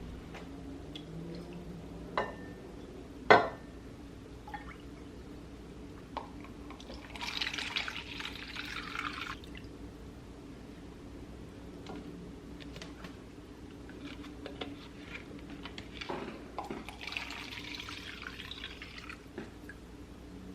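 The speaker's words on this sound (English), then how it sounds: "I am going to pour 2 cups at a time into my measuring cup and get that poured into my deli containers" Homemade chicken stock is poured from a pot into a measuring cup and then into deli containers in a home kitchen. A few faint trickles and splashes come with scattered clinks of containers in a quiet room.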